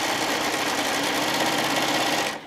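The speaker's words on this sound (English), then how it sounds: "I really only want to be sewing the seam allowances" A sewing machine stitches a fabric seam allowance on a camper-print panel, a loud, close, rapid steady whir that runs continuously before slowing to a stop at the end.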